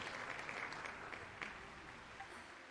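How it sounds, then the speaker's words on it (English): Video game audience applauding at a curtain call after a masked performance, a continuous distant clatter of many clapping hands, fairly faint and slowly fading. "The applause continue after I take off the mask."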